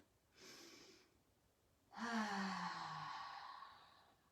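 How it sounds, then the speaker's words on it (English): A person takes slow deep breaths: a short soft inhale through the nose, then a longer, louder breathy exhale through the mouth with a faint voiced sigh, close and unaccompanied. "I want us to take 3 deep breaths"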